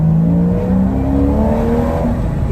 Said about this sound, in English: I'm in the Porsche. I'm just driving it back to my mum and dad's.